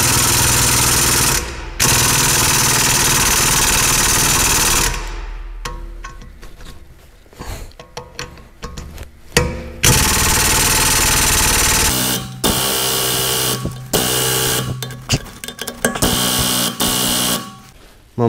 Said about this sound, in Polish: kręcę pneumatem, kręcę, a to stoi w miejscu